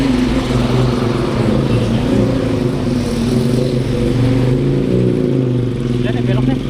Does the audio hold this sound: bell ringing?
no